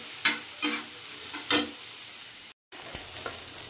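Chopped tomatoes going into a hot pan of oil, with loud bursts of sizzling as they drop in and are stirred, then a steady softer frying hiss, close up and alone.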